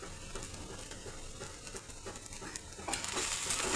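Khichdi stirred in a pan over a high gas flame, a steady sizzle with soft repeated scraping strokes that grows louder and hissier toward the end.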